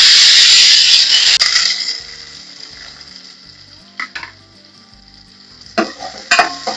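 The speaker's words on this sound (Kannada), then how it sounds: "ಸೊ ಈಗ ಈರುಳ್ಳಿ ಹಾಕ್ತಿದ್ದೀನಿ." Chopped onion dropped into hot oil in a pan for a quick beans recipe: a loud, bright sizzle settles into a steady softer fry, with occasional clinks and scrapes of stirring.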